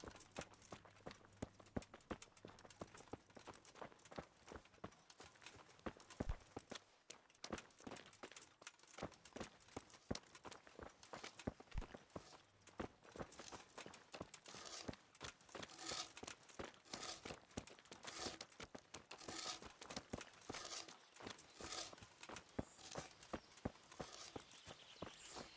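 Horse hooves clop along at a steady walking rhythm in the Kingdom Come Deliverance From The Ashes game, close and continuous, with crunchy footfall texture and no talk.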